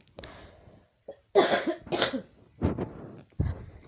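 Several harsh, wet coughs in a row, close and loud, separated by short pauses, with a throat-clearing sound among them.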